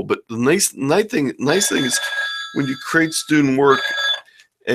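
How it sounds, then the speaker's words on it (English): A phone rings during a school library presentation, its sustained electronic tone running for a couple of seconds under a man's continuous speech. "I'm sorry about my phone ringing here."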